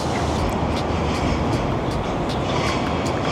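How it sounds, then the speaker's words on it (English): A Chicago L elevated train passes close by outdoors, a loud, steady rumbling roar of rail cars with faint rhythmic clacks running throughout. "What do you call that train? L. The L?"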